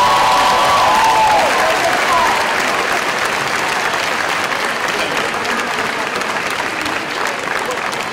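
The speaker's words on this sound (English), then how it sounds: "Let's give this Call Me Mr. a round of applause." Audience applause fills a commencement ceremony hall, a dense sustained wash of many hands clapping at steady loudness for the whole stretch, with a brief whistle or cheer near the start.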